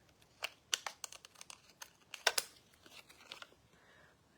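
Several short, crisp snips and paper crinkles spaced irregularly, close up and moderately loud, with a quiet pause near the end.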